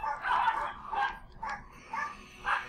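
Several dogs barking in the room in repeated bursts, roughly one every half second to second, fairly loud and close, with no talk over them.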